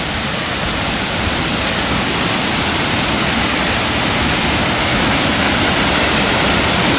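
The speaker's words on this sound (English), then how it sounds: "Because I'm next to a waterfall." Loud, roaring waterfall beside a mountain trail, a dense continuous rush of falling water that fills the whole clip close by, with no break.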